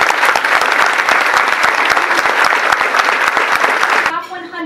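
Sustained, loud audience applause at an awards banquet and class of 2021 graduation for outstanding teacher recipients, dense clapping that fades at the end as a voice begins speaking.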